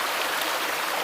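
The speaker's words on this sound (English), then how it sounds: "Here we are, crossing the creek." Creek water rushes over rocks where three creeks converge in a wooded hollow on a Shenandoah hike, a loud, close, unbroken roar with no talk.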